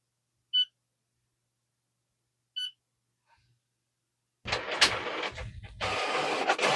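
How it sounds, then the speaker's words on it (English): An inkjet printer from a thrift store, fresh ink cartridges installed, runs a nozzle check: two short separate beeps, a pause, then a loud mechanical whir and clatter as the page feeds and prints. "let's go ahead and try printing the nozzle check again."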